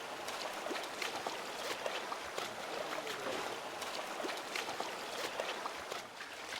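Clear river water rushing and splashing around people wading across a river, a steady close burble and trickle with small splashes, no talk over it.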